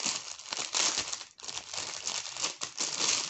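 A plastic sachet of diamond painting diamonds being peeled open, giving a close, loud run of crinkling and crackling plastic with brief pauses, no talking.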